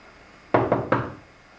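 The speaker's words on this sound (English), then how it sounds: "Whence is that knocking?" Three knocks, two close together and then a third, sound on a wooden door or stage flat during a high school stage production of Macbeth, loud and near against a quiet room with no talking.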